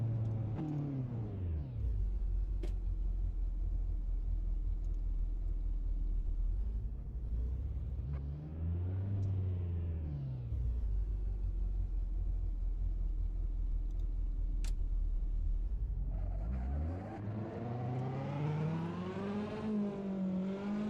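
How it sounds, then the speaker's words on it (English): A Ferrari driven in Assetto Corsa, its engine droning loud and steady, rising and falling in pitch through gear changes and revs, with no other sound over it. "So this is a Ferrari."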